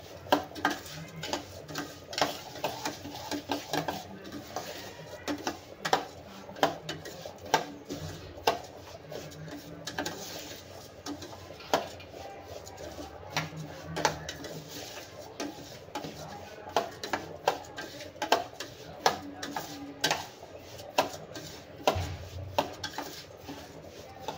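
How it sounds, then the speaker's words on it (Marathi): Semolina roasting in ghee over a medium flame, with frequent metallic clinks and scrapes of a spoon against the pan in an irregular stirring rhythm, fairly quiet, with occasional soft voice in the background. "आता आपल्याला छानपैकी रवा तुपामध्ये भाजून घ्यायचा आहे"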